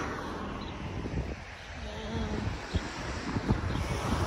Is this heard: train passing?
no